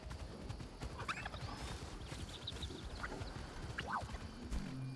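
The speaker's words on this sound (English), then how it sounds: "Horsey!" Horse hooves clip-clop in the Palia video game, a quick, steady patter of close footfalls over a soft background, with a brief whinny-like call in the middle.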